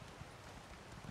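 A horse's hooves thud along at a steady riding pace in The Elder Scrolls Online, quiet and muffled under a soft wash of ambient game sound.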